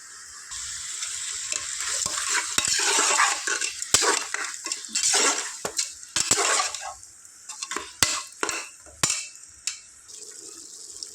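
Mutton curry frying in a pan, with a steady sizzle under repeated scraping and clinking stirs of a metal spoon against the pan, close and fairly loud, no voices.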